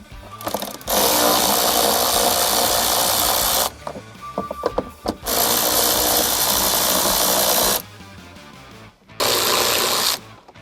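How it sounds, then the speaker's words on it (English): A power tool unscrews 10mm bolts from the A-pillar of a RAM 1500, sounding in three loud, sustained whirring bursts broken by short pauses and some ratcheting clicks, close up and with no voices. "There's a 10mm bolt under each of those, so we'll remove that now."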